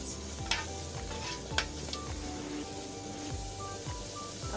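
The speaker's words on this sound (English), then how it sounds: "Stir it a bit." Palm oil jollof rice sizzles in a pot while being stirred, with a soft, continuous fry and periodic scraping strokes of a spoon against the pot. The sound is fairly quiet, with no voices.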